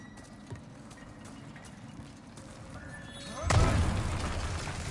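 An explosion in the video game Demon's Souls lands as a sudden low boom partway through, then a rumbling tail that lingers to the end over quiet background game sounds.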